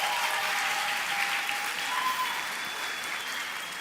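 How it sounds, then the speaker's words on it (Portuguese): A congregation claps steadily and loudly throughout a church baptism service, dense sustained applause filling the room without a break. "Vamos dar uma salva de palmas"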